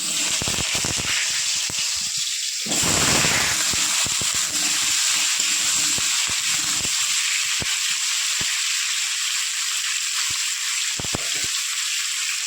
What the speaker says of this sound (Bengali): তেল গরম হয়ে গেছে এবার প্রথমে আমি আলুগুলো ভেজে নেব